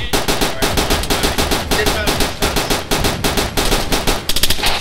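Rapid automatic gunfire rattles in continuous bursts during a large co-op military battle in Arma 3, the shots loud, close and evenly spaced, with a denser flurry near the end.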